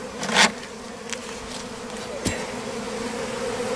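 Honey bees buzzing around an open hive during a spring inspection, a steady close drone with a few louder passes as individual bees fly near.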